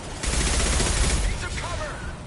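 Rapid gunfire crackles in the shooter game Mass Effect 2, a short loud burst of overlapping shots followed by fainter pings and effects.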